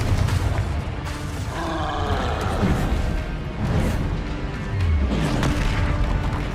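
A Confringo fire spell blasts in Hogwarts Legacy, booming in heavy low bursts amid a dense clatter of combat effects, with a repeated deep rumble near the end.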